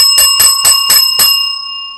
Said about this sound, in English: it's got that crazy obnoxious bell that you're going to ring again